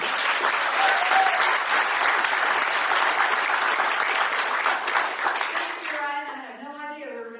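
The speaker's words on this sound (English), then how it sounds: "please give a big round of applause and a warm welcome" At a food summit, a large audience applauds steadily and loudly, with dense overlapping claps, tapering off near the end as voices begin to emerge.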